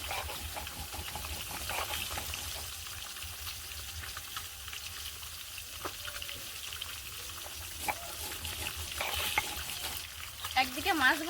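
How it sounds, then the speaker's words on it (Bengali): Large fish pieces fry in a pan with a steady hiss of bubbling oil, broken by occasional clatters and stirring sounds, fairly quiet throughout. "একদিকে মাছ ভাজা হচ্ছে"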